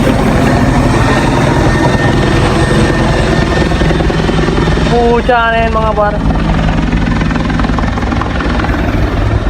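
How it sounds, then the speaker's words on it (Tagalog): A helicopter drones loudly and steadily overhead, its heavy rotor noise constant throughout, while someone talks over it and a brief whistle-like tone sweeps through midway. "Helicopter mga par, di ba?"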